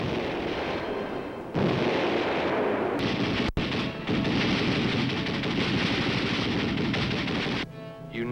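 Infantry weapons firing at a military training range at Camp Buckner, a dense continuous roar of gunfire and blasts with a brief dropout partway through, loud and sustained.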